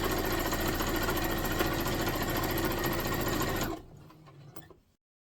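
Sewing machine stitching a quarter-inch seam around a quilted fabric tote bag, a steady rapid mechanical whir that runs loud and even, then stops abruptly and leaves a few faint clicks and handling noises.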